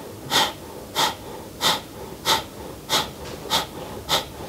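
Kapalabhati fire breathing: seven sharp, forceful nasal exhalations in a steady rhythm about every 0.6 seconds, close and clear, with quieter passive inhales between them.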